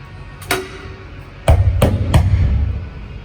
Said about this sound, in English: just put a new rivet through